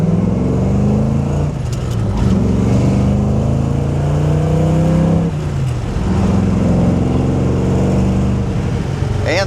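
A 1961 Chevrolet Corvette convertible's dual-quad 283 V8 revs and pulls hard, its deep rumble rising and falling as it accelerates, loud and close throughout with no talking.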